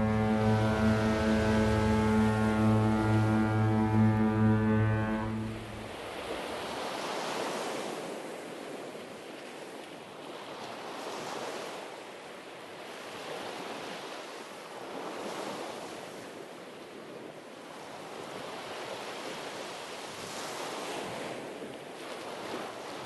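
Archival film sound of a ship at sea carrying passengers toward Arabia, with steady rolling waves and wind rushing across the microphone, preceded by a brief tonal musical passage at the start.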